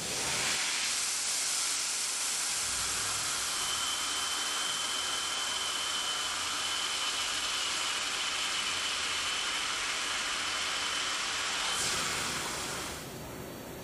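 Haas CNC machine running a G81 drilling program, a loud, steady broadband whir and hiss holding constant for about eleven seconds before dropping off near the end, with no voices.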